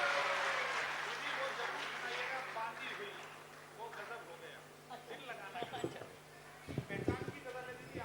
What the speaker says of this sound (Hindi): उनके लिए तालियां थोड़ी कमजोर थी, जोरदार तालियां बजाइए